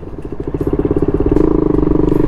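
A motorcycle engine under way on a road, a loud close pulsing drone whose throb quickens slightly as it pulls, with no talk over it.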